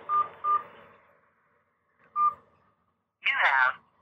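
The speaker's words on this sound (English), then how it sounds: "Please enter your password, then press pound." Telephone keypad tones are pressed to enter a voicemail password: two quick beeps, a pause, then a third. A short spoken voice prompt follows.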